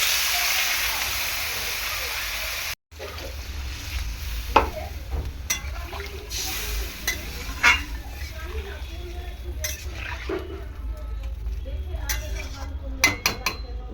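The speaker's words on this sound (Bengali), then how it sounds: "ভালো করে কষিয়ে নিয়েছি" Papaya vegetable curry stirred and sautéed in a pan, with repeated scraping and clinking of a utensil against the metal over a soft sizzle, close and moderately loud, with a sharp break early on.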